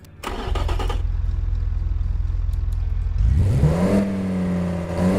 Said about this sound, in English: let's go ahead and see if we can make this little V10 going